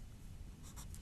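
A pen or pencil writing a number by hand on paper, a short, quiet scratching stroke lasting about a second, heard close and alone.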